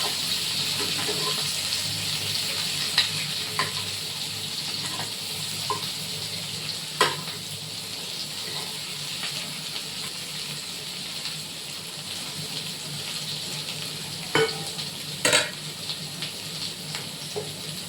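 Boiled potatoes with eggs half-frying in a pan, a steady close sizzle running throughout with occasional sharp clinks and scrapes of stirring.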